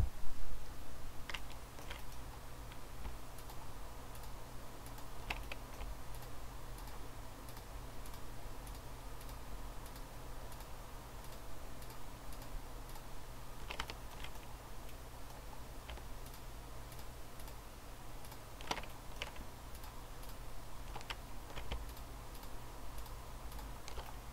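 A computer keyboard is typed on and Shift is pressed while selecting polygons in 3D modeling software. Sparse, light key clicks come in scattered bursts over a steady low hum, with no voices.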